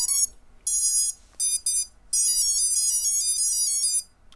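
A racing drone's ESCs powering up during calibration after flashing BLHeli firmware through Betaflight passthrough: a loud run of electronic tones, a short opening burst, a gap, two brief bursts, then a long sustained melodic beeping sequence.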